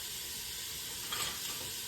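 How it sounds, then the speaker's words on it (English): Bacon, onions and sausage sizzle in a hot pot for a soup, a steady broadband frying hiss with a brief louder flare as food goes in, close and alone. "that sizzle."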